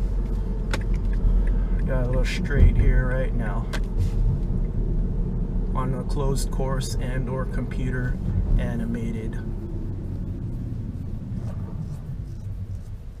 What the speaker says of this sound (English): Let's see how 0 to 60 feels in this car.